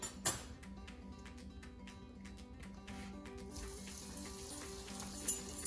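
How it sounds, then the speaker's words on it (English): Spinach mozzarella cheese sticks fry quietly in oil on medium heat, with soft crackles and occasional pops over a gentle steady hiss. "now I can move on to frying, and I have my oil sitting on medium heat"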